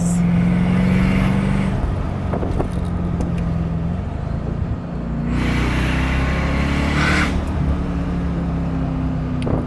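A nearby supercharged Mercedes CLK DTM Cabriolet engine runs loud and continuous, with a high whining shriek that rises and shifts alongside a rushing supercharger whoosh as it accelerates.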